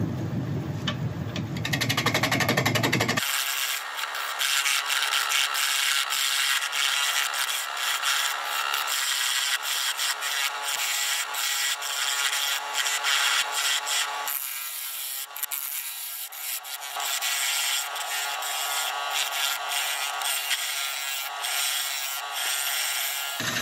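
Close, continuous scraping and rubbing of a gouge cutting a chestnut bowl on a wood lathe, steady and loud for over twenty seconds with only slight shifts in tone and no talking.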